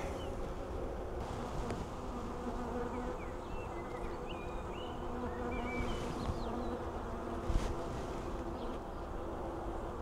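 Honey bees hum steadily around an open hive as the queen is let out, a soft continuous buzz with individual bees whining past close by and a faint knock near the end, no talking.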